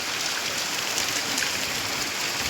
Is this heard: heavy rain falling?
yes